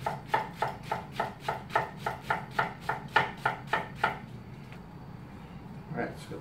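A knife slices cabbage thinly on a cutting board, a steady run of about a dozen quick, evenly spaced chops up close that stop abruptly, leaving faint room noise.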